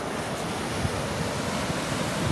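Ocean surf at Taman Manalusu beach in South Garut, a continuous loud roar of breaking waves with wind rumble filling the whole clip and no voices.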